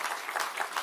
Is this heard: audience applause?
yes